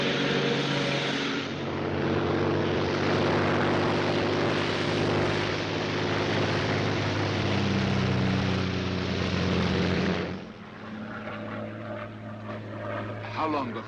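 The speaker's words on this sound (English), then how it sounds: "a Royal Air Force plane is waiting for us at a secret landing place" Royal Air Force propeller plane in flight, a loud steady engine drone filling the cabin, with a few voices speaking over it before the roar drops to a lower hum.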